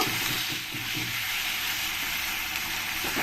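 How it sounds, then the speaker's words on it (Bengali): Cumin-coriander paste sizzles loudly with onions for a chicken curry, a dense steady frying hiss running throughout, with a few soft stirring scrapes near the start and no talking. "জিরে ধনের পেস্টটা দিয়ে ভালো করে আমি পেঁয়াজের সঙ্গে মিশিয়ে নেব"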